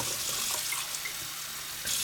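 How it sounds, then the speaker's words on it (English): A steady stream of water splashes into racing pigeon feed for about two seconds, a soft continuous trickle and patter with no voices. "I'm going to add a little bit of water"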